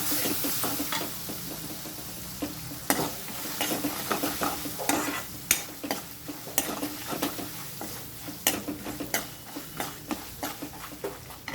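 A spiced evening snack mixture being stirred in a pan, repeated scraping and clattering strokes of a spoon against metal over a soft sizzle, close and rhythmic with no talking.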